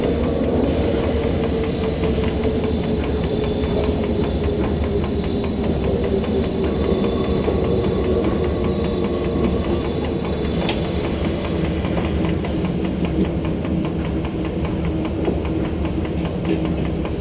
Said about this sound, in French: Nous arrivons en gare de Vif, au kilomètre 151 de la ligne.